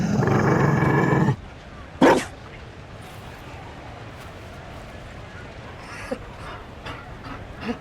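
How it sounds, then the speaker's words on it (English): A Mabari war dog in Dragon Age: Inquisition lets out a loud, sustained growling bark, then a single sharp bark a moment later. Quiet in-game ambience with faint scattered sounds follows. "You found a dog?"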